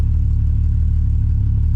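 A VW MK4 12-valve VR6 engine idles steadily up close, a deep, smooth rumble with a fast, even pulse and no other sounds.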